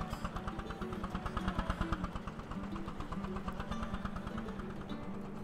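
A tractor engine in the farming game Farming Simulator 22 runs at a steady idle with a rhythmic low chug, fairly close and continuous throughout.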